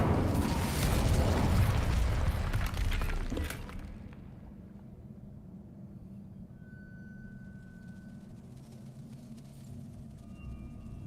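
An Incendio fire spell cast in Hogwarts Legacy, a loud roaring burst of flame that lasts about three seconds and then cuts to a quiet background hum with faint tones.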